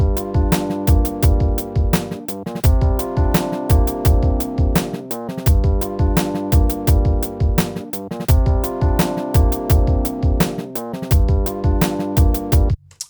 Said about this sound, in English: I've recorded a little Rhodes part here for this project